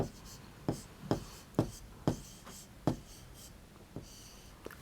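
A number is handwritten during a Hindi-language primary maths lesson, with about eight to ten sharp pen or chalk strokes tapping at an irregular rhythm, close and crisp, and a voice speaking softly beneath.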